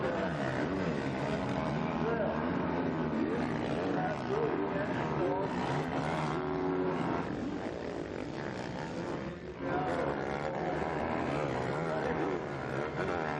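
A Kawasaki motocross bike races in MXGP qualifying in Germany, its engine whining and revving loudly with rising and falling pitch, mixed with other bikes and under constant commentary.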